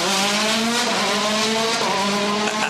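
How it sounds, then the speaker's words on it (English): A Citroen DS3 rally car driven by Petter Solberg roars past on a German WRC power stage, its engine loud and continuous with rising and falling revs and a hint of tyre noise throughout. "Here's another Citroen Privateer in the shape of former world champion Petter Solberg"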